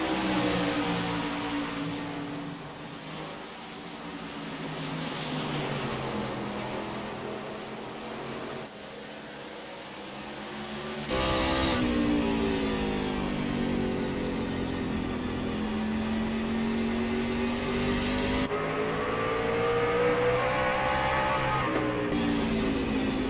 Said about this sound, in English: You can hear how much he had to play with the throttle on exit.